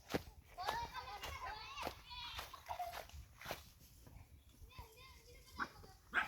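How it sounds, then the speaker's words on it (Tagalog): Children on a mountainside play and chatter, several young voices overlapping, laughing and calling out with scattered footsteps and thumps, fairly close and lively throughout. "Kunting ingay ng mga bata."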